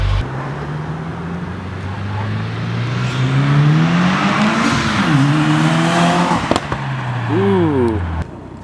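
A cold 2017 Subaru WRX with its downpipe and J-pipe removed revs up and back down, its loud raw exhaust tone climbing and falling in pitch, with a few sharp pops as the revs drop.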